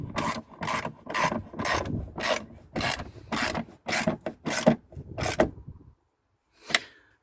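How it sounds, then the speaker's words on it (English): A wrench works nuts tight on towbar bolts fitted to a Rover 45, about a dozen steady rasping ratchet strokes in a regular rhythm, close and loud, then a pause and one final stroke. "I'm just going to hold this bolt at the top so we can get the nuts"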